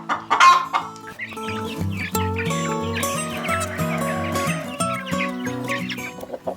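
Roosters and hens of a backyard flock, including an older rooster and a New Hampshire, cluck and crow together in a busy, continuous chorus with overlapping calls, close and fairly loud, with no talking.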